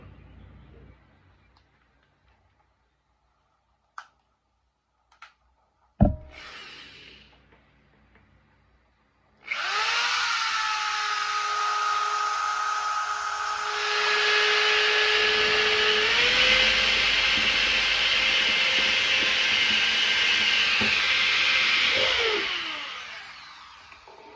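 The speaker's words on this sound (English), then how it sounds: "I'm using a small drill bit first, so that I could easily drill the bigger hole." A power drill fitted with a small bit drills a pilot hole for the range-area automatic drinker on a gamefowl farm: a few knocks, then a steady high motor whine that rises in pitch partway through and winds down at the end.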